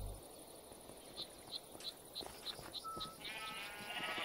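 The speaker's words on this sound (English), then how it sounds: "Let me get those sheep again." Sheep bleat in the colony building game ForgeCraft, a few short, soft cries over a chirping insect ambience with faint rhythmic ticking in the background.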